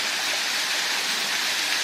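Stream water at a farm in Ecuador pours steadily into a rocky pool, a constant close rushing wash with no pauses.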